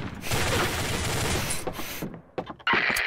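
Gunfire in the Combat Arms online shooter game: a dense, loud burst of rapid automatic fire for about two seconds, followed by a few sharp separate shots and mechanical clicks.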